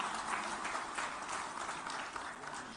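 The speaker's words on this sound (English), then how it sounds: "once a big round of applause for him," An audience claps for a speaker at the PLASTINDIA 2023 exhibition event in Hyderabad, producing a steady, fairly faint wash of applause that continues evenly without pause.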